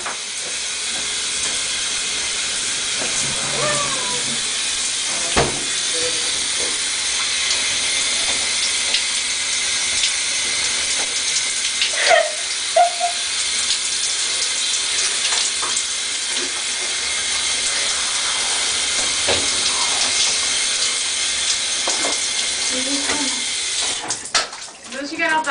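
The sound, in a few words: shower running water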